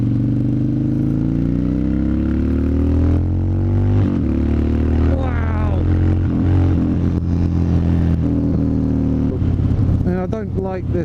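A 2016 Harley-Davidson Street Bob motorcycle engine rumbles steadily during a ride, pitch rising and dropping through gear changes, with a rider talking over the close, continuous drone.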